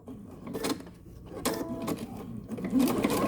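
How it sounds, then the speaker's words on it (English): A sewing machine stitches around a curve on a quilting scrap project in short bursts of a few stitches, its whirring motor starting and stopping close by with brief pauses between runs. "Just take it easy, a few stitches at a time."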